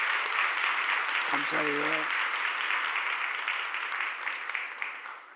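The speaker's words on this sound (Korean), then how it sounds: "박수 한번 할까요?" A church congregation applauds during a Sunday service, a dense steady wash of clapping that holds for several seconds and slowly fades, with a brief spoken word near the start.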